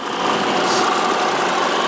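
A wood gas tractor engine running entirely on firewood, idling steadily and loud, a close, continuous mechanical drone with no talk.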